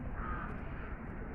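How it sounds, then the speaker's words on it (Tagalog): Crows caw faintly in the morning over a steady background hum, a few rough calls in the distance. "nakaganda ng araw yung mga ibon"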